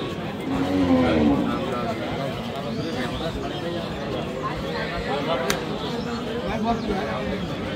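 A Sahiwal cow at the Aftabganj cattle market in Dinajpur gives a low moo early on, then the busy market carries on with people talking close by and background crowd noise.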